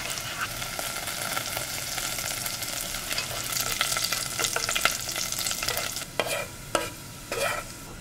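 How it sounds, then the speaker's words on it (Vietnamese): Shallots and garlic frying in oil over low heat, stirred steadily in a pot, giving a soft continuous sizzle with light scraping strokes near the end; no voices. "Đảo đều với lửa nhỏ cho đến khi hành tỏi chuyển vàng thì mình tắt bếp ngay."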